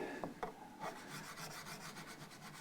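Abrasive paper rubbing along the frets of a Fender MIM Telecaster during re-fret leveling, a steady close scratchy rasp with a few stroke bursts early, then a continuous hiss of rapid back-and-forth strokes.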